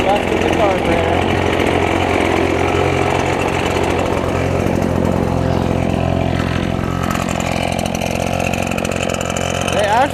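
A gas backpack leaf blower runs continuously without fuel to burn out what is left in its carburetor, giving a loud, steady engine drone close by for the whole stretch.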